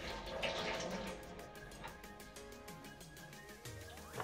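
Running tap water splashes over an onion being rinsed before dicing for curry chicken, a steady faint rush with shifting spatter as the onion turns under the stream, no voices.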